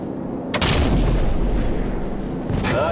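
Heavy gunship cannon fire in Call of Duty 4's aerial mission, a sharp loud blast followed by a sustained rumbling barrage of booms and impacts that carries on steadily to the end.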